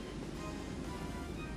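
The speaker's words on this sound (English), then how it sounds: "There's the sound of the sea again." Sea waves in the visual novel game Umineko: When They Cry, a steady, dense wash of surf and wind-like noise holding at an even level throughout the short stretch, with no voices over it.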